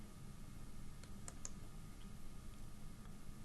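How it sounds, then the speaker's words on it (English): A few faint computer mouse clicks, spaced irregularly, sound over a quiet steady hiss while someone works through a reporting software menu. No one speaks. "Clicking on the operators drop down"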